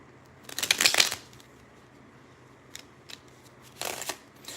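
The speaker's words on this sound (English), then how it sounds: "while I'm shuffling cards" Tarot cards are shuffled in short, crisp riffling bursts, one longer flurry then a few brief flicks and a final quick riffle, close and fairly quiet with no talking.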